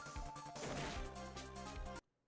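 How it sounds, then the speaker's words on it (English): A door is smashed open in the Phoenix Wright: Ace Attorney video game, one loud crashing impact with rattling debris lasting about two seconds before cutting to silence. "I just smashed that door right open"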